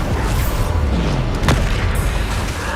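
A Bombarda spell explosion in the game Hogwarts Legacy gives one heavy, booming blast with a sharp crack near the middle, set against dense, rumbling combat noise that runs throughout.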